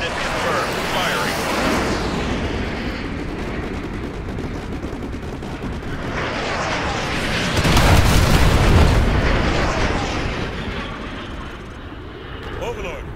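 Artillery strikes land in the Call of Duty Modern Warfare 2 Remastered campaign, heavy booms and rumbling blasts mixed with gunfire, swelling loudest midway and trailing off, with voices talking over the combat.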